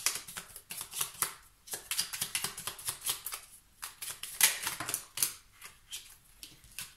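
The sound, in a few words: shuffling and drawing an oracle card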